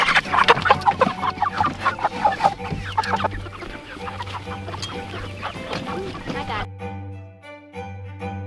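Homestead chickens of several breeds cluck busily up close, loud at first and then steadier. A person talks over them before the sound cuts to quieter background.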